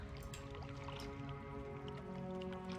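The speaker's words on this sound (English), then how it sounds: "This is water." Flowing water in the fantasy video game Pillars of Eternity, a quiet, steady trickling stream over a low, constant ambient hum with no voices.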